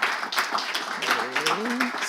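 Audience applause and ovation in a French-speaking crowd, steady close clapping, with a voice speaking over it partway through.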